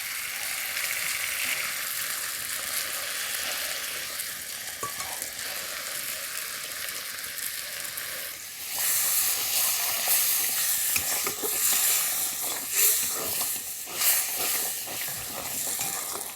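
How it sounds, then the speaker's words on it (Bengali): Strained coconut milk poured into spices frying in oil with turmeric, a loud close hiss that swells partway through as the liquid hits the hot pan, with stirring clatters and no talk. "এবার আমি নারকেল দুধটা ছেঁকে দিয়ে দেব।"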